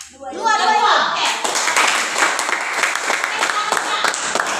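Classroom of students applauding a group of classmates, dense, steady clapping from many hands that swells quickly after a brief pause and carries on at even loudness, with children's voices mixed in.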